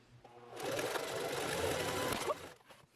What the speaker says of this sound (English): A quick ironing and it was time to sew.